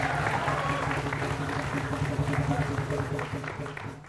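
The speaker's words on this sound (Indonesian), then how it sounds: "Oke, tepuk tangan sekali lagi." A school audience at SMA Negeri 9 in Palembang claps steadily throughout, a dense continuous patter of applause with a low tonal hum or music underneath, tapering slightly at the end.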